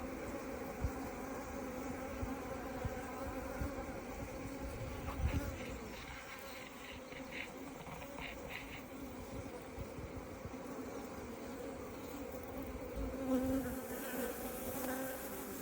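Honey bees buzz steadily around an open hive while the brood frames are inspected, a dense close swarm drone that holds throughout with no talking.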